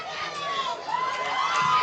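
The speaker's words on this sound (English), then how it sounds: "you can hear the crowd giving a little extra" A high school playoff football crowd roars with cheers and children's shouts after a touchdown, a steady, loud wash of voices throughout.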